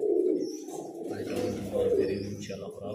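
Pigeons coo in a loft, a continuous soft, throaty cooing that sits close and fairly loud through the whole stretch, with occasional faint higher chirps above it.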